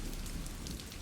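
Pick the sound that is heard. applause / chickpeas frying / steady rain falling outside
steady rain falling outside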